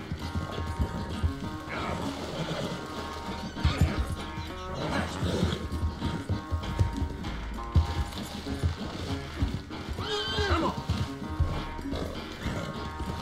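Horse hooves clip-clopping at a gallop in Red Dead Redemption 2, a rhythmic thudding beat under game music and tack rattling, with occasional louder crashes and impacts.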